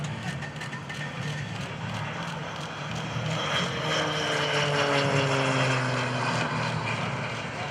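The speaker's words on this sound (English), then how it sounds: "the gear comes up, the turboprop engine now with the smoke turned on" A T-6C Texan II turboprop roars past overhead at an airshow, its engine drone building louder and shifting in pitch as it flies by, with faint voices underneath.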